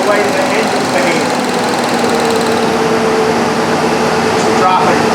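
A 1998 Ford Ranger 3.0L engine idling with a cylinder misfire: a loud, close, steady mechanical hum and whir with a faint uneven pulsing, and a brief knock near the end.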